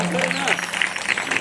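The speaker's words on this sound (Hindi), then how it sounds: "एक बार जोरदार ताली बजाओ।" Audience clapping at a Ramcharitmanas religious discourse, a short burst of lively applause rising over a lingering voice, close and fairly loud.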